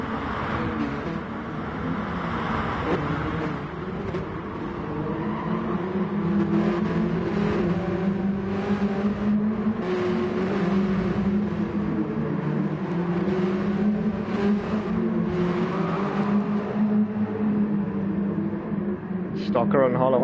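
BMW M3 race cars racing at the Fuji circuit, with a steady, sustained engine drone and whir heard throughout beneath continuous race commentary.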